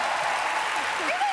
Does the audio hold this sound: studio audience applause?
yes